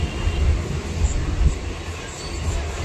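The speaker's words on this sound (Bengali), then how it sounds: "এই মুহূর্তে আমাদের ট্রেন প্রবেশ করছে বালি ব্রিজ" A Sealdah–Baruipara local train rolls onto Bally Bridge, its heavy low rumble and rattling wheels loud and continuous from on board, with faint squeals above.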